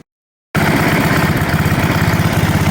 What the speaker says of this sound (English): Well, it's all together. It's running. It idles well.